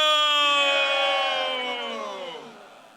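Rally crowd at a PPP jalsa for Bhutto shouting a slogan in unison, a loud sustained mass of voices that trails off and fades over about three seconds.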